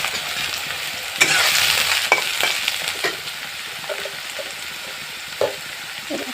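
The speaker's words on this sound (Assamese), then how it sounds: "প্ৰথমতে মই চয়াবিনখিনি ভাজি ল'ম।" Soybeans frying in hot oil in a pan, a dense close sizzle with sharp bursts of crackling as they are stirred, loud and continuous, no talk.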